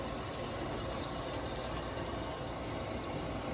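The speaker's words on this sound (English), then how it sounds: "now the cabbage is all cut up and I'm rinsing it off." Cut cabbage is rinsed under a running tap, a steady close hiss of splashing water that holds at an even level throughout with no talk.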